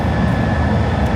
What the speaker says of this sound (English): This does sound exactly like an airplane.